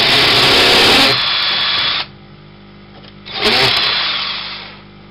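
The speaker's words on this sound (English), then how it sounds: "So get a drill," A handheld power drill whirs in two bursts, revving high, stopping abruptly, then spinning up again before winding down, close and loud with no talking.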